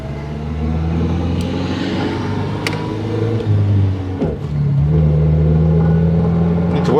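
Engine of a vintage Lanchester LD10 with a preselector gearbox, heard from inside while driving: a steady low rumble that dips briefly and then picks up again, continuous and fairly loud.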